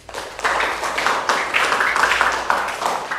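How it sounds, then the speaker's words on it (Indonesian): A classroom group claps together at the close of an Islamic religious lesson, a dense, steady patter of many hands that runs the full length with small surges. "beri tepuk tangan untuk kita semua"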